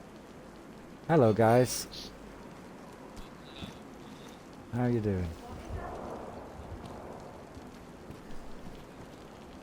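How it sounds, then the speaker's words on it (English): Steady outdoor rain patters as a soft, even hiss throughout, faint and continuous beneath two brief bursts of a voice near the start and middle. "I know, raining again."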